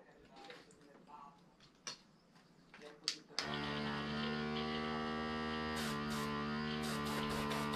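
A mini airbrush compressor kicks on after a few faint clicks and handling noises, then runs with a steady, close electric motor hum that continues to the end.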